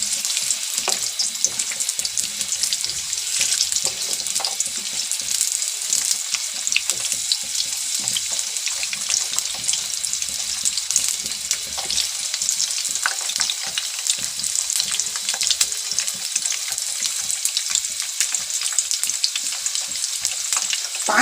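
Boiled potatoes fry in oil in a karahi with a dense, continuous sizzle and crackle, loud and close, with occasional stirring scrapes and no talk.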